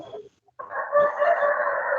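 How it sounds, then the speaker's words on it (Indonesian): A rooster crows once, loud and close: a short cluck first, a brief pause, then a long drawn-out call held for over a second. "Mohon yang ada suara ayam berkokok jangan di-mute ya."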